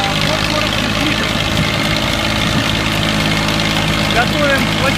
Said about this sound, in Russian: Фрезеруем почву фрезой и трактором Е244.